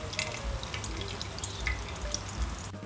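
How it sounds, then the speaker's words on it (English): Water drips and trickles steadily from grated potato twisted and squeezed in a kitchen towel over a bowl, a close, soft patter of droplets that runs throughout and cuts off abruptly at the end. "Grab the 4 corners of the towel and then start twisting to squeeze out the excess moisture."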